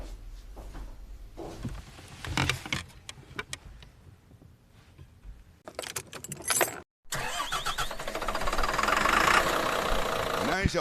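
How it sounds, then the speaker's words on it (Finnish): An old bus engine starts up in a radio drama: scattered clunks and rattles, a brief dropout, then the motor catches and settles into a loud, steady running roar. "Näin se onni onnikka käynnistyi"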